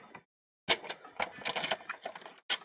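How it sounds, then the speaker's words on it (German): Quick clacks, scrapes and rattles from a paper trimmer used to score fold lines into cardstock for a handmade card, coming in close irregular bursts with short pauses between them. "brauche jetzt auf dem Tonkarton Falzlinien in horizontal, vertikal und diagonal. Dazu nehme ich meinen Papierschneider."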